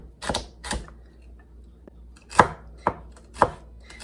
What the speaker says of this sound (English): And I'm just kind of fine chopping this.